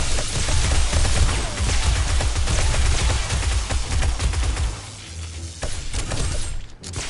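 A firearm in 7 Days to Die unloads in rapid, continuous bursts in a snow biome, loud and close, with cracking shots piled over a heavy rumble before a brief lull and a few more rounds.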